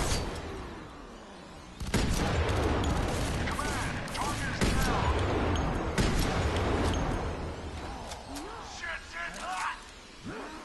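A chain reaction of explosives going off in F.E.A.R. 3, a string of booms and crackling blasts spread over several seconds under dense game noise, with a voice talking partway through.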